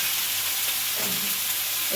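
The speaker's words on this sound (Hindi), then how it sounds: "अभी ये सादा वाली सब्ज़ी छौंक रही हूँ।" Plain vegetables with tomatoes are being tempered in a hot pan, giving a steady, close sizzle and frying hiss throughout with no talking.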